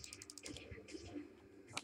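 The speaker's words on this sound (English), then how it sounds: "I just have to keep clicking." Fast, repeated clicking of a mouse or keys while playing a PC shooter, light clustered taps close up, with faint voice sounds under them.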